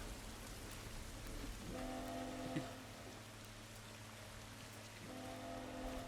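Steady rain in The Last of Us game fills the scene as a continuous hiss, with a low tonal game drone and intermittent musical tones layered over it; no one speaks.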